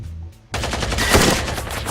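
Rapid automatic gunfire from the tactical shooter game Ground Branch, a loud sustained burst that starts abruptly after a short quiet lead-in and continues to the end.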